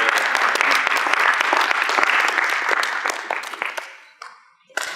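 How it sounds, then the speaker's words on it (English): An audience at a conscious living seminar applauds warmly, a dense wash of many hands clapping for about four seconds before fading out, followed by a few stray claps. "let's give a round of applause to Bobby and Marietta."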